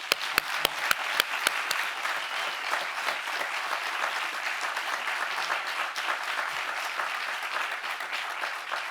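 An audience applauds at a reproductive health talk, starting with a few sharp separate claps that quickly swell into sustained, even applause from a large crowd, moderately distant.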